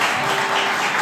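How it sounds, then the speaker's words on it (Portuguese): A church congregation applauds in a brief, dense burst of steady clapping filling the room. "Será que você pode aplaudir o Senhor?"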